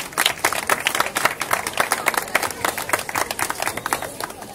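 An audience applauds to welcome Professor Mario Primicerio onto a stage: steady, moderately loud clapping from a crowd of many hands, continuing evenly for several seconds.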